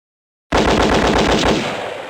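A rapid burst of gunfire from the PC adventure game Sam and Max Hit the Road breaks out loud and alone after a brief silence, with fast repeated shots fading slightly toward the end.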